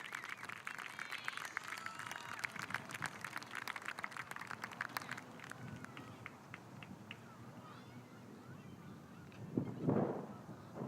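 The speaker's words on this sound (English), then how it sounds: "Big round of applause for everybody for our Chatham seniors." A small crowd at a high school baseball game claps sparsely for the seniors, brief scattered claps early that thin out under voices and cheers, with a louder shout near the end.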